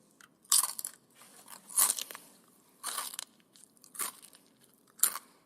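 Someone eats a crunchy snack close up, ASMR-style, with five or six sharp crunching bites and chewing in an uneven rhythm between quiet pauses, no talking.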